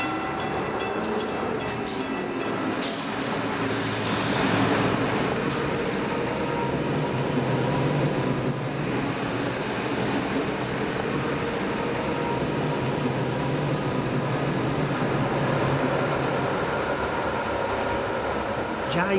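An ALn 668 diesel railcar runs on the Bornato–Rovato line through Franciacorta. Its loud, steady rumble and rattle fill the whole stretch without pause, and faint voices can be heard beneath it.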